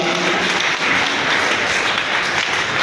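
An audience applauds at a kavi sammelan poetry gathering in a town hall in Darbhanga. The clapping is a dense, steady wash of many hands that holds at an even level for the whole stretch.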